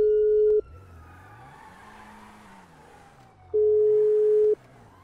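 FaceTime video call ringing tone in a role-play video game: two loud, steady electronic beeps, each about a second long, separated by a three-second gap over a low, wavering background drone.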